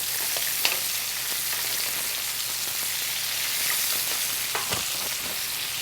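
A steak sizzles steadily in a pan while being basted with butter, a dense continuous crackle with occasional louder spits and pops, close and fairly loud, with no talking.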